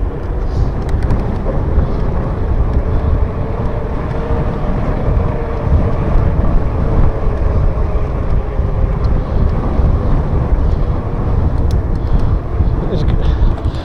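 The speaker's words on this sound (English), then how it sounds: "As you can tell, it's a bit windy." Strong wind roars across a hilltop above the seafront, buffeting the microphone in a steady, loud rush with no letup.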